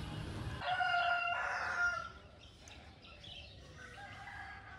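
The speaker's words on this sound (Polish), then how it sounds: "Mamy koguta." A rooster crows on Gili Trawangan island, one clear, fairly near crow that fades into quieter clucking and faint bird chirps amid light outdoor background noise.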